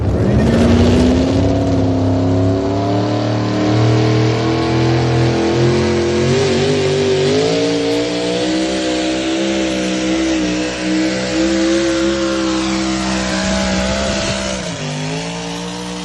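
A truck-pull competition truck's engine roars loud and close for the full run, revving high with shifting pitch and a slight drop near the end, with no voices over it.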